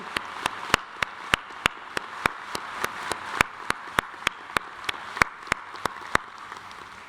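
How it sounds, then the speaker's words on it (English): Applause at a university commencement ceremony: crisp, evenly spaced claps ring out about three times a second over a soft, steady hiss of distant clapping, with no voices on top. "Let's show our appreciation through applause for each other."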